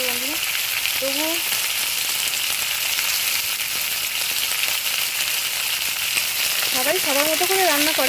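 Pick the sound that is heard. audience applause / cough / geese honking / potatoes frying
potatoes frying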